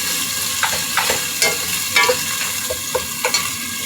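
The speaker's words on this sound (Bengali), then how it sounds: "আমি এখানে আদা এবং রসুন পেঁয়াজের সঙ্গে সুন্দর করে ভেজে নিচ্ছি।" Ginger and garlic fry with onions in hot oil while a spoon stirs the pan, giving a steady sizzle broken by sharp scraping clicks roughly every half second, close and without talk.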